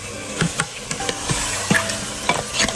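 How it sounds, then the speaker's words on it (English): Meat cooking in ginger garlic paste for nihari, stirred in a pan: a steady sizzle broken by repeated scraping clinks of the spoon, close and fairly loud, with no voices. "let it cook in the ginger garlic paste for about, I would say, 5 minutes"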